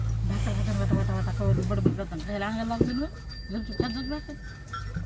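Several wavering bleats from a goat or sheep, fairly close, rising and falling over a low background hum with a few sharp knocks.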